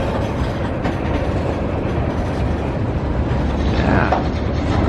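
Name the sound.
freight train carrying liquefied petroleum gas passing close by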